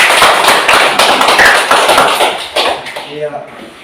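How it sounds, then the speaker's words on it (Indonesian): A classroom group applauds together, a burst of clapping that is loud and close for about three seconds, then tapers off as a voice starts speaking near the end. "kita tepuk tangan untuk kelompok"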